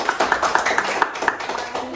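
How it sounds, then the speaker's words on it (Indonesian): Children clap hands together in a classroom right after singing a patriotic song, a steady run of quick claps with some voices mixed in. "Oke, tepuk tangan dulu untuk negara kita."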